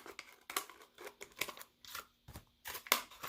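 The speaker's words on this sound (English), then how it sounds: "And you take scissors and you snip it." Scissors snip around a plastic water bottle in a series of sharp, close cuts with crinkling plastic, irregular bursts separated by short pauses.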